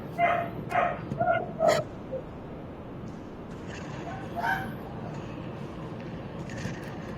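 Several short, sharp dog barks and yips sound from the background of a house in a quick cluster during the first two seconds, with a couple of fainter yips later over steady low room noise.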